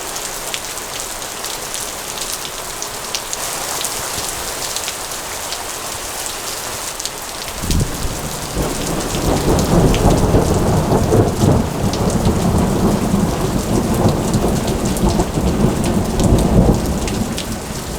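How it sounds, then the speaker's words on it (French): A heavy mountain downpour hisses steadily, then a deep rumble of thunder rolls in halfway through and the rain roars even louder, a dense, close wash of water on surfaces with no voices. "je peux pas dire que j'ai été surpris par la pluie"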